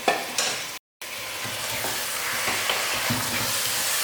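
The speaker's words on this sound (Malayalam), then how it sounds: "ഇനി ഇതിലോട്ട് കഴുകി വൃത്തിയാക്കി വെച്ചിട്ടുള്ള ബീഫ് മാറ്റിയാണ് ഞാൻ" Fatty beef added to a pressure cooker for beef mandi and fried, a steady close sizzle broken by a brief silent gap, with scraping and stirring clatter throughout.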